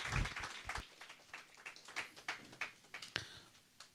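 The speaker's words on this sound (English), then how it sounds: "So we give Asha Didi a warm welcome with a big round of applause" Scattered, fairly faint clapping from an audience welcoming a speaker at an inauguration session for finance professionals at the Om Shanti Retreat Center, a thin spread of individual claps rather than a dense ovation.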